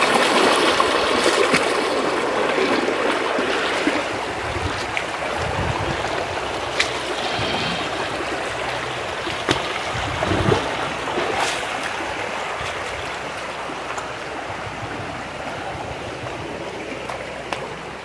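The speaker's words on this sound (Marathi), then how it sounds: "आम्ही आता सगळेजण बघा विरातूनच चालत चाललो" Water flows and burbles steadily through a shallow village stream as a group wades along it on a summer outing, a continuous close rushing wash with occasional splashes and no speech.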